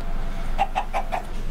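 A chicken in Minecraft gives four short, evenly spaced clucks, clear and near, over a steady low background hum.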